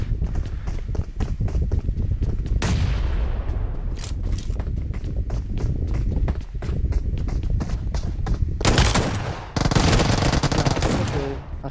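Rapid automatic gunfire bursts from a PUBG Mobile battle royale match, loud and dense with repeated volleys, shots overlapping and fading between bursts, no talk.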